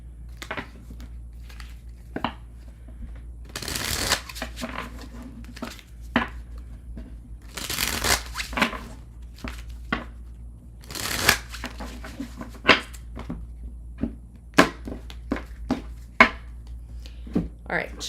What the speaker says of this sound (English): All right, shuffle, shuffle, shuffle.